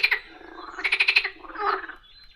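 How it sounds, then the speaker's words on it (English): Frogs croak close by in quick pulsing bursts, a rapid rattling call followed by a lower drawn-out croak, with no voices. "Oh, can you hear these frogs?"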